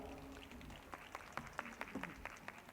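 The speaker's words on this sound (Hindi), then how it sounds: "और अगर आपका कुछ और हुक्म हो तो तालियां बजा के इजाज़त दे सकते हैं आप" An audience at a poetry recital in a school claps, scattered sharp hand claps picking up midway and continuing faintly in an uneven patter.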